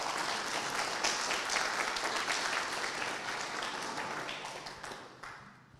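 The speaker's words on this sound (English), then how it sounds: "A big applause for that, please." Sustained audience applause at a professional engineering society meeting, a dense wash of many hands clapping steadily throughout, tapering slightly toward the end.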